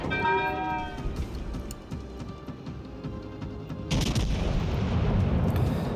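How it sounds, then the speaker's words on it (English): Naval ship guns fire in World of Warships Legends as several distant booms with a ringing bell-like tone, followed by a louder rumbling burst, under game background noise. "More shots at the Hyuga."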